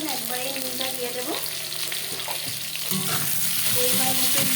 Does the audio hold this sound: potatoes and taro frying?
yes